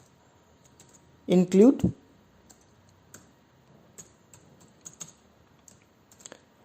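A computer keyboard clicks out C code in sparse, irregular keystrokes, some in quick clusters, after a brief spoken word, heard close and fairly quiet.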